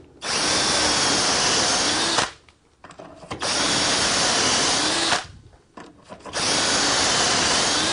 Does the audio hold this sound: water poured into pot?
no